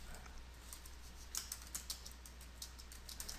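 Light typing on a computer keyboard during a whiteboard software demo, a few soft, scattered key clicks over a faint steady hum, quiet and fairly close.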